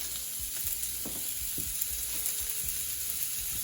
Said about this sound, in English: Now to fry our burgers, we're going to fry the 3 burgers in one go.